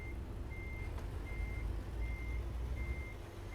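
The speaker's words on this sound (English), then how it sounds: "Reason I'm turning around is we need to reverse around so we can get hooked up to our trailer" Reversing beeps from a truck in American Truck Simulator, a steady electronic beep repeating about every half second, four pulses over a constant low engine rumble and road noise.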